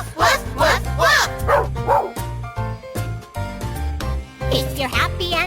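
Children at a school assembly chant woof woof in imitation of a dog barking, loud rhythmic repeated voices sung over music.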